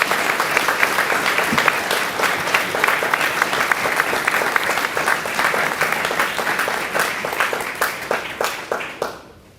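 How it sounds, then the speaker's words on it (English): Sustained applause from a graduation audience at a 2016 Academy of Finance ceremony, dense clapping throughout that thins and fades out near the end. "Let's give them a round of applause."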